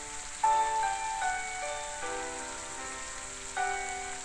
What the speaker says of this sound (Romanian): Și plouă aici în orășelul ăsta.